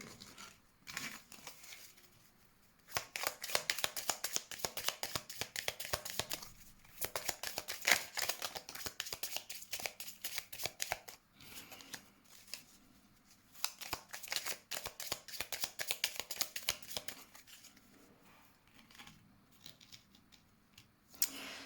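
Tarot cards are shuffled and cut for a reading, with dense, rapid riffling and flicking bursts that run nearly the whole time, pausing briefly between passes, close and fairly quiet.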